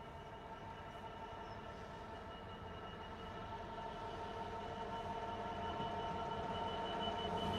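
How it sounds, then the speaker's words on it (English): A Class 66 GBRF freight train passes with a steady, dense rumble and rail hum that grows gradually louder as it continues. "And straight away we're getting a freight train. Class 66,"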